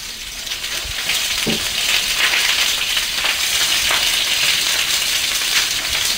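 Food fries in hot oil on a tray set over high heat, a loud, steady crackling sizzle that swells after the first second and continues unbroken, with no voices.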